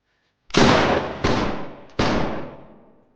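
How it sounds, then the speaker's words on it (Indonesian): Three loud gunshots fire in succession, spaced under a second apart, each blast trailing off in a booming, echoing tail. "Serangkaian tembakan terdengar dan Wenwich berlari untuk melihat apa yang t"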